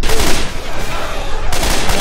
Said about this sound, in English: I'm shooting, but I think I'm shooting Francis's head